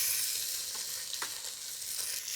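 Onions hit a hot pan of whole spices for khichdi and sizzle loudly and steadily, with faint stirring clicks over the constant frying hiss.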